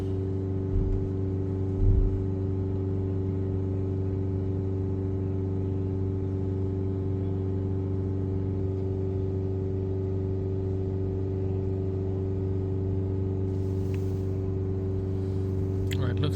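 A DS Citroën DS5 engine, under repair for a diesel particulate filter fault, running steadily at idle with a constant low hum and a faint whine; a brief bump near the start and no clear revving.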